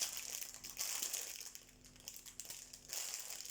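Crinkly plastic packaging from a cross-stitch kit being opened, with close, steady crackling and crumpling in uneven bursts and no talking.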